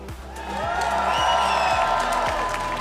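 Live crowd cheering and applauding at a Red Bull Home Ground esports semifinal in Berlin, a steady loud roar of voices with whoops rising above it throughout, no clear talk on top.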